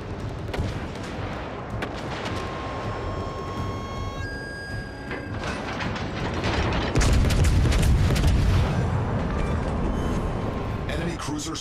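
Naval artillery from warship guns in World of Warships: Legends booms repeatedly in heavy, rumbling salvos, building louder toward the end amid dense battle noise and a radio voice.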